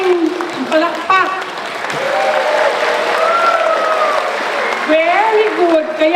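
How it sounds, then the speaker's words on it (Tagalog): A large audience at a national congress in the Philippines claps loudly and continuously, while voices call and sing over the sustained applause. "So palakpakan natin sila"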